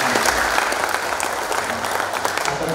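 Dense audience applause at a party inauguration ceremony, loud and continuous, a full crowd clapping evenly from start to end.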